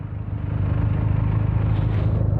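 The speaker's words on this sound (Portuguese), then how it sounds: "O barulho desta motinha é qualquer coisa. Benelli 302." A Benelli 302 motorcycle engine runs with a steady, deep exhaust rumble, loud and close, holding a constant drone with slight rises through the whole stretch, no talking over it.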